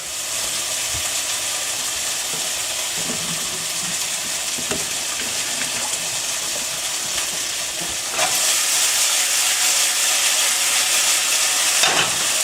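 Sesame ginger beef stir fry with noodles stirred in a hot pan, giving a steady close sizzle and hiss that swells louder near the end, with faint scrapes of the utensil and no talking.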